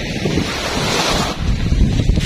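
Wind buffets the microphone and waves surge on the open sea during a pumpboat trip, a loud close rushing roar with no pause.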